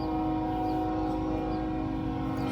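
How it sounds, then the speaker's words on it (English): A train rolls steadily past outside, its horn sounding as a loud sustained tone over continuous rumbling rail noise for the whole stretch, with no talking. "Sorry, folks, we have a train."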